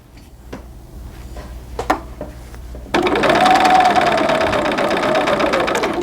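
A sewing machine starts after a few soft clicks and runs slowly and steadily along a curved seam on doll pants, its close, rhythmic whir continuing to the end.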